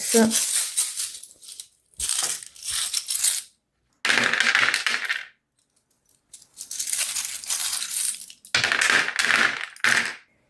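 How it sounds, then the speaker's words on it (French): Oracle charms shaken and shuffled together, giving loud, close bursts of jingling, clattering metal in four or five rhythmic spells, with short silent gaps between them. "Attention les oreilles, je vais mélanger les charms"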